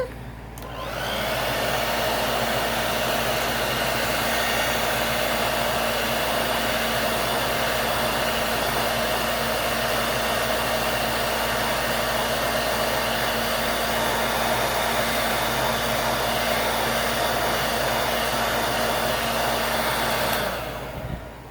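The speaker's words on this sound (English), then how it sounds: "I'm going to hit it with the blow dryer, our best friend." A blow dryer switches on and whirs steadily and loudly at close range for about twenty seconds, then cuts off.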